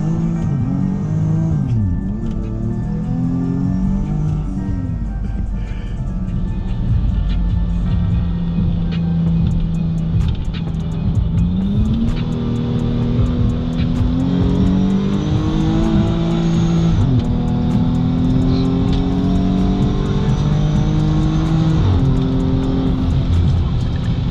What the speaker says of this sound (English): As long as I keep my foot on the gas, it keeps going.